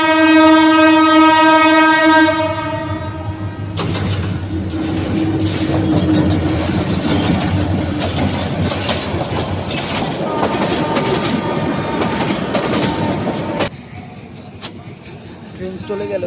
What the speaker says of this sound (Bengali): ট্রেন রাস্তা আছে, ট্রেন আসছে,